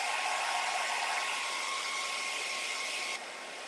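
A hair dryer blows a steady, close hiss of air over the painted base coat on a door hanger, running continuously and dropping slightly in level near the end, with no voices.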